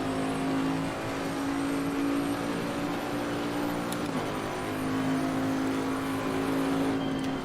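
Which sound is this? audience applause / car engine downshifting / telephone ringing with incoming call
car engine downshifting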